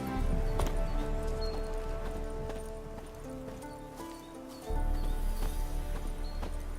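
Hooves clip-clop in a steady galloping rhythm as a horse runs in The Witcher 3: Wild Hunt, heard under a dense bed of game music and ambience at moderate loudness.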